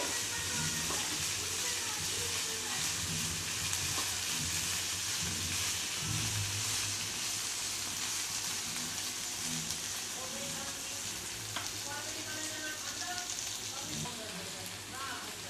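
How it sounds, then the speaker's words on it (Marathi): Fenugreek leaves sauté in hot oil with a loud, steady hiss and crackle lasting throughout, with occasional stirring and someone speaking over the cooking. "व्यवस्थित मेथी परतून घ्यायची आपल्याला तेलामध्ये एक दोन मिनटाचे परतून घ्यायचे"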